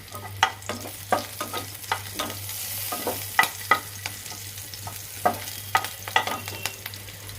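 Black cumin seeds crushed by hand sizzle in hot oil for a spicy brinjal dish, with a steady crackle broken by sharp spits and pops and the scrape of stirring, close up with no talk.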